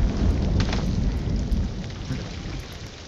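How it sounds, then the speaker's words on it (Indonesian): A thunderstorm with heavy rain in Ghost of Tsushima: dense, steady downpour with deep rumbling thunder rolling beneath, loud and continuous throughout with no voices. "Ini udah hujan petir, gila ya."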